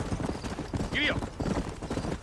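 Horse hooves gallop in a quick, steady rhythm through a Western game scene, with a brief whinny in the middle and a voice talking over them.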